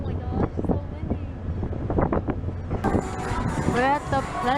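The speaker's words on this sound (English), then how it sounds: "Oh my gosh, it's so windy." Strong beach wind buffets the microphone with rough gusty roar as a boat comes in to dock at Galveston, a voice talking under the gusts.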